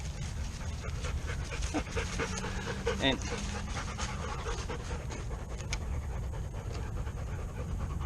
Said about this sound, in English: Excuse my dog's heavy breathing.